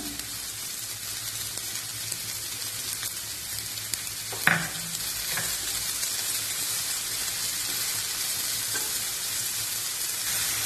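Salted carrot, beans, capsicum and coriander for chicken momo filling fry in a pan with a continuous, even sizzle, broken by a single sharp spatula scrape near the middle and a few lighter stirs.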